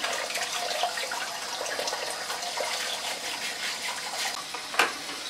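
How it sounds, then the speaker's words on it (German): Wild boar foot being scrubbed with a root brush in warm soapy water, a steady wet swishing and splashing close by with a sharper knock near the end. "Dazu schrubbe ich den Fuß mit warmem Wasser"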